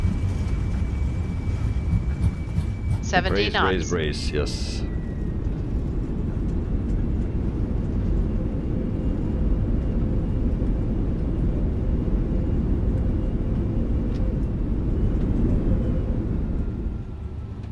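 Airliner engines in reverse thrust during landing rollout in Microsoft Flight Simulator 2020, a loud broad roar that holds steady throughout and fades near the end, with a brief spoken callout early on.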